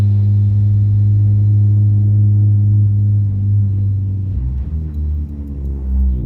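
A widebody Honda Civic engine rumbles steadily from inside the car while driving, a deep loud low drone that shifts pitch partway through as the revs change.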